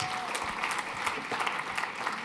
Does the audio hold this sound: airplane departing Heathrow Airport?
no